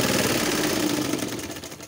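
A sewing machine runs steadily as it stitches patchwork pieces for a table runner, a continuous close mechanical whirr with fine rapid rhythm that eases slightly toward the end.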